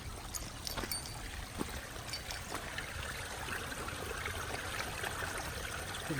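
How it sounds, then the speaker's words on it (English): Steady spring water trickles and splashes nearby, a continuous outdoor flow with small bright drips and no voices. "So there's a spring over here."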